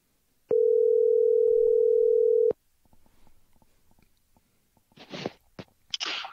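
Steady telephone dial tone lasting about two seconds, loud and alone, while a call is placed to a guest, followed by faint handling noises and a couple of brief bursts of noise.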